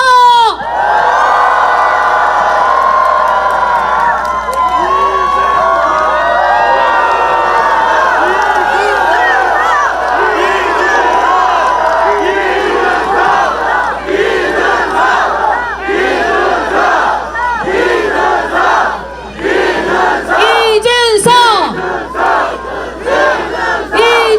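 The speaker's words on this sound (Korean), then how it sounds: "큰 박수 함성" A large crowd at an election campaign rally in Daegu roars and shouts loudly and continuously, cheering with rising whoops and cries that fill the space without letting up.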